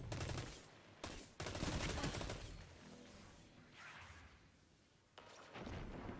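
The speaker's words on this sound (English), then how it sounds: "But this auto rifle is kind of butts." Auto rifle gunfire in Destiny 2 Warmind, the Foregone Conclusion, crackling in loud sustained bursts at the start and near the end, with quieter stretches between.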